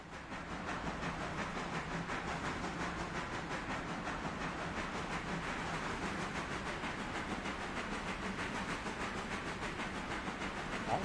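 Steam locomotive running on a short railway in the Railroader video game, a steady rhythmic chuffing hiss with a faint rolling clatter, continuous and fairly close, with no one talking.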